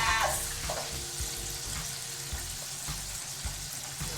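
Chicken sandwich pieces frying in oil, a close continuous bubbling sizzle with a few clinks and shifts early on, no voices.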